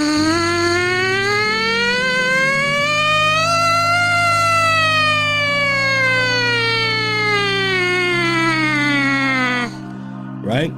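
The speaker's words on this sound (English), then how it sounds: "now let's buzz on our mouthpiece" A buzzing trumpet mouthpiece slides slowly up in pitch and back down like a siren, loud and sustained, ending abruptly with a brief pause.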